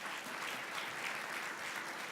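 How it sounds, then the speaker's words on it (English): An audience at a community breakfast gives the Quinn family a round of applause, a dense, steady wash of clapping with no voices. "Let's give the Quinn family a round of applause."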